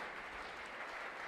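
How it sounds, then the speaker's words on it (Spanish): Congregation applauding during a live Mass at a parish church, a brief, even wash of clapping at moderate distance with no voices over it. "un fuerte aplauso para Naima"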